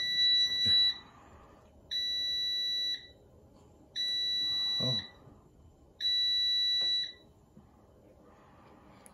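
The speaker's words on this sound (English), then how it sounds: "So that was a few beeps. I guess that's when you're turning it off." A Power AirFryer Pro gives four evenly spaced high-pitched beeps as it is turned off, each held about a second, with a brief exclamation near the start.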